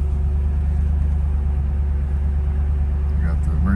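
A 2007 Ford Mustang Shelby GT500 idling in cold weather, its engine and exhaust giving a steady, loud, deep rumble that holds evenly throughout.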